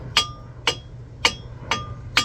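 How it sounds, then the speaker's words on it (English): Five evenly spaced, sharp metallic hammer taps ring out on a Toyota Corolla brake part, each a bright clink with a short ringing tail, close and distinct over a low background hum. "get a hammer and tap on it right here"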